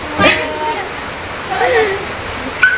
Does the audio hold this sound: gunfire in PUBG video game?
no